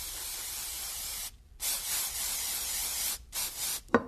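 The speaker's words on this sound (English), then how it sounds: "spray the pistons with throttle plate cleaner and make sure it gets in the grooves" Throttle plate cleaner hisses from an aerosol can onto engine pistons and into their ring grooves, in a long close spray followed by several shorter bursts.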